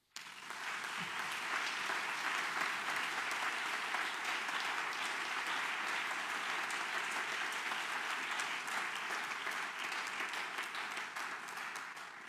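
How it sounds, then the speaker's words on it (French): A church congregation applauds in a sustained, even roar of many hands clapping, filling the space steadily for over ten seconds before tapering slightly. "Pouvons-nous l'acclamer, s'il vous plaît?"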